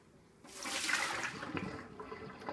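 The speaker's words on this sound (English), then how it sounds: "Then run the blender for 5 to 10 seconds." A blender about half full of water with a touch of dish soap runs to clean itself. A steady churning, sloshing whir starts abruptly and carries on for about two seconds.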